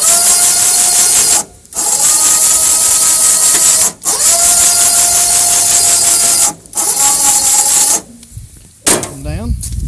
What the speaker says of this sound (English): This is the winch control